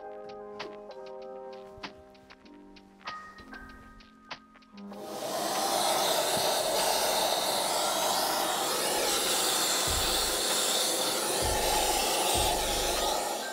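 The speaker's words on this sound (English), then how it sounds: "Now we can clean easily with a soft brush and with a vacuum cleaner." A vacuum cleaner runs steadily while cleaning a FRITSCH PULVERISETTE 13 premium line disk mill, starting abruptly after a few light clicks and taps and holding a loud, continuous roar with occasional low bumps.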